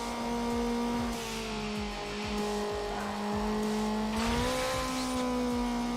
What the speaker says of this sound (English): I like the sound of the Miata as it's upgraded as well.